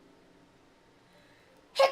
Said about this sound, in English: Get you all out of your nap funks with my big sneeze.